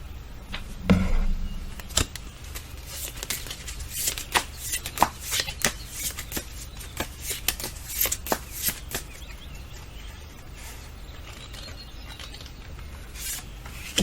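Tarot cards are shuffled and drawn by hand, giving a quick burst of riffling followed by scattered soft slaps, flicks and rubs of card stock, close up, fading to quiet near the end.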